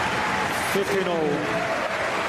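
A tennis crowd at the Australian Open roars and cheers loudly and continuously during a second-round match, with a voice briefly heard over the din.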